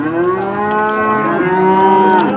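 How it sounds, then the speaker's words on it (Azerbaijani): Fattened heifers at the Imishli cattle market let out one long, loud, close moo that holds steady for the whole stretch, with no voices over it. "bax, kök düyələrdir, yem yemiş mallardır"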